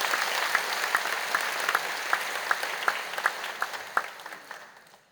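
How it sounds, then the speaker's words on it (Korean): A church congregation applauds to welcome a new education minister at a Sunday service. The clapping is fairly full and steady at first, then thins to scattered claps and fades out over about five seconds, heard from a little distance, with no speech. "여러분 크게 박수로 환영하실게요"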